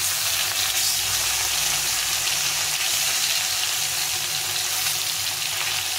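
Hilsa fish pieces fry briefly in hot oil, turned over now and then; a steady, loud, close sizzle runs unbroken throughout with no talking.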